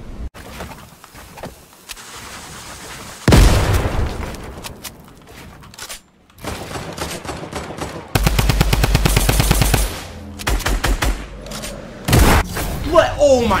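Bursts of automatic gunfire and heavy shots from Fortnite Battle Royale, loud and close, with booming impacts and rapid rattling volleys stacked one after another, with speech mixed in among them.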